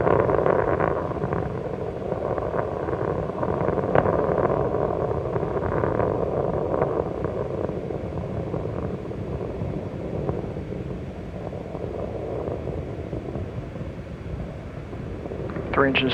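Space Shuttle Columbia's three liquid-fuel main engines roar at full throttle during the STS-87 launch, a steady, dense rumble with wind buffeting that holds throughout, heard from a distance.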